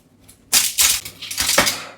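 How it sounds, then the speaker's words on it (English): A knife or cutter crunches and scrapes through a homemade rectangular mushroom pizza on a hard tray or board. The strokes sound close, with a couple of gritty cuts and clicks over about a second and a half. "I never know how to cut rectangle pizzas."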